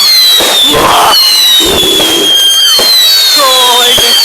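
Fireworks display at an outdoor event, several loud bangs and crackling bursts with whistling rockets rising, close and sharp, with people's voices briefly in between.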